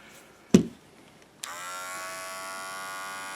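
An electric shaver trims the fleece along a sheepskin coat seam, starting with a sharp click and then a steady, close, high-pitched motor buzz that holds evenly to the end.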